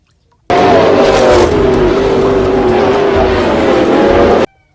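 A toy race car's engine-revving sound effect plays as one loud, continuous roaring whine for about four seconds, starting and stopping abruptly.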